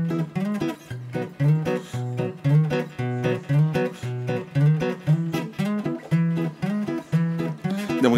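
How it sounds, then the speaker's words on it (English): Guitar plays the bass line and chords together for a verse, a bouncy, steady rhythm of low bass notes alternating with strummed chords, close and clear with no talking. "so if you're gonna play the bass and the chords at the same time for the verse, it would sound like this."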